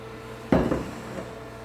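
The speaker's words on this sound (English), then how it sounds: "Let's take this dough and get it into the muffin pans." Thick dough dropped into metal muffin pans gives one fairly loud clattering knock with a brief scrape of metal, then a quiet tail, with no talk.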